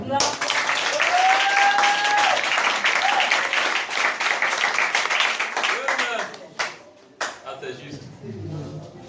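A church congregation at a Sunday service claps and cheers loudly, the applause gradually thinning into scattered claps near the end, with voices heard in the room.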